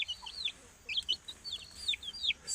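A hen clucks near her six young chicks on a countryside farm, with a string of short, high chirps and soft clucks close by and no talking.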